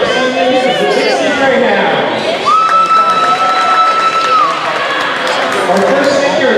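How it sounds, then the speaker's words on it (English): A gym crowd at a high school volleyball senior night cheers and claps for the senior players, a loud, dense wash of voices and applause with a whistle-like tone rising out of it. "Let's give them one more round of applause"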